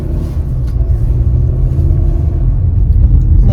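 Car road noise in slow morning traffic: a heavy, steady low rumble of the vehicle rolling along in a queue, loud and continuous, with no talking.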